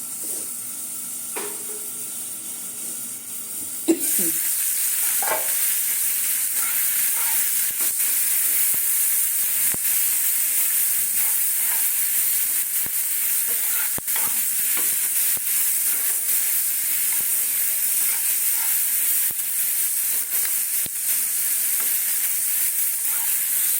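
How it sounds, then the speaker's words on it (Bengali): Onions frying in a pan for a Bengali puti fish mustard-poppy seed dish, with a soft clatter and rustle at first, then a steady, loud hiss of frying that runs on unbroken. "পেঁয়াজটা হাফ ভাজা হয়ে গেছে"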